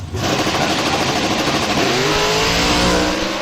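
Two Chevrolet COPO drag race cars launch in Factory Stock Showdown at the 2021 NHRA U.S. Nationals, their engines roaring loud and close and revving higher as they pull away.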